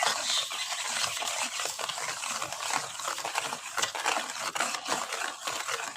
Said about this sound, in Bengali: এইভাবে অনবরত নাড়লে চিনিটা গলে যাবে।